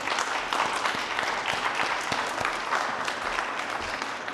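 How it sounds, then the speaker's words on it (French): A conference audience applauds the speakers at an urban planning awards keynote, steady dense clapping from a large crowd in a hall, continuous throughout. "Je crois qu'on peut applaudir nos intervenants."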